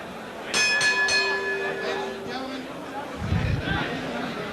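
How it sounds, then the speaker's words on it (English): A boxing ring bell ends the round, struck several times in quick succession with clear ringing tones over a loud arena crowd and an announcer's voice. "Hernandez was saved by the bell."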